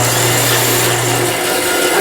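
Bandsaw motor running steadily in a woodturning shop where fresh-cut ficus is being worked, a loud, constant drone with a low hum and broadband whir, no speech.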